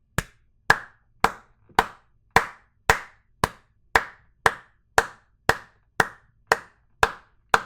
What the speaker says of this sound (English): Golf clap, soul clap.